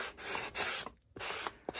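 Short back-and-forth rasping strokes of a sanding block rubbing across paper card, close and fairly quiet, with a brief pause partway through.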